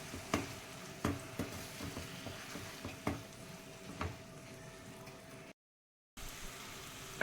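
Ginger paste and spices sizzle in oil in a home kitchen pan, a soft steady crackle punctuated by sharp ticks and taps, with a brief dropout near the end.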